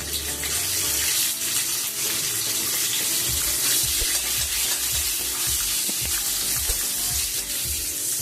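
Nigella seeds and green chillies sizzle loudly in hot oil for a fish curry, a steady dense hiss with small crackles and pops throughout, no talking.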